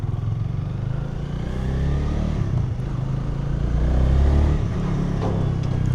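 A Honda Rebel 300 E-Clutch motorcycle rides through city streets with a group of other riders, its engine thrumming steadily up close with rising revs and traffic rumble around it.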